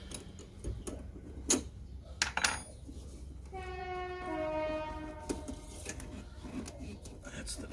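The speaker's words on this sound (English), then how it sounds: "That's the train." A train passes at a distance, with a drawn-out horn of steady layered tones sounding for a few seconds in the middle, set against outdoor background noise and a few sharp knocks nearby.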